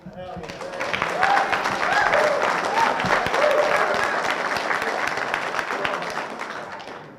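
Applause breaks out from the audience at a city council meeting, a full, close burst of clapping that swells within a second and stays strong throughout, with voices and a few shouts mixed in.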